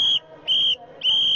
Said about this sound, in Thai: เป่านกหวีดอีกทีดิเป่านกหวีดอีกทีแล้ว